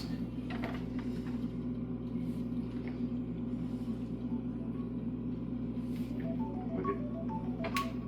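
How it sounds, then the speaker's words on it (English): A short run of electronic alarm beeping tones near the end, over a constant low engine-like hum and faint background rustle. "Oh my, that's my alarm."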